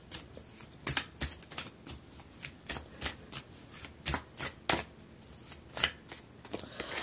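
Tarot card deck being shuffled by hand: quiet, close riffles and slaps in an irregular run of several quick bursts, alone without talk.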